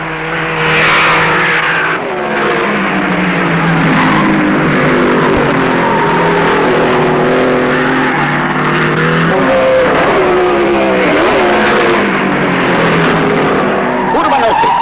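1950s Ferrari and Maserati race cars at the German Grand Prix: loud, sustained roaring engines rising and falling in pitch as cars sweep past, with tyre squeal throughout.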